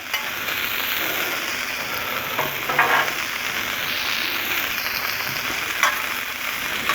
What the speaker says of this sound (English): Let them onions cook up a little bit.